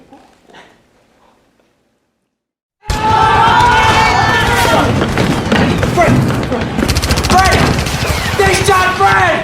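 After a near-silent opening, a school Remembrance Day play erupts into a loud, sustained burst of staged gunfire and explosion effects. Shouting voices are mixed in throughout.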